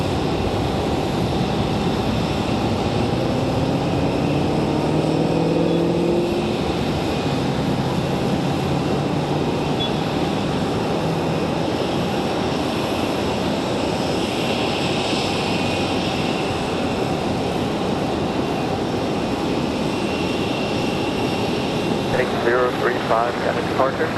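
A Boeing 737-8 airliner at Raleigh-Durham airport, a continuous broad engine roar holding steady for the whole stretch at moderate distance, while a voice talks over it.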